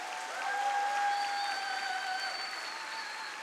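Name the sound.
applause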